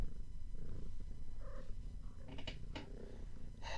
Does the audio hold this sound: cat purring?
yes